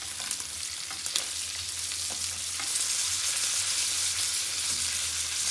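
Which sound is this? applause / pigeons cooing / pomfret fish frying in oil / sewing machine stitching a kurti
pomfret fish frying in oil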